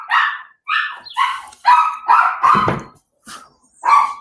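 A dog barks repeatedly at close range, loud yelping barks in a steady string of about seven, with no talking over them.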